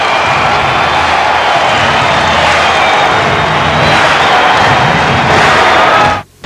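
Basketball arena crowd at the Capital Centre rising in a standing ovation during a 1992-93 Knicks game, a loud continuous roar of cheering and applause that holds steady before cutting off abruptly at the end.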